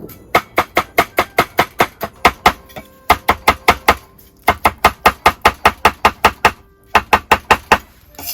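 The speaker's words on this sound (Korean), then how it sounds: "쪽파부터 썰을게요" Scallions sliced finely with a knife on a cutting board during outdoor winter-camp cooking: crisp, close, evenly spaced chops in quick runs, with brief pauses between bursts.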